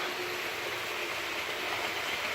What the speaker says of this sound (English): Here comes the steam train.